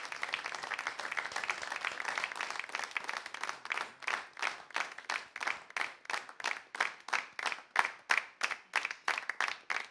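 An audience applauds a band on a Romanian TV show, starting as dense, continuous clapping that turns into slower, rhythmic unison clapping, loud and steady with no talk over it.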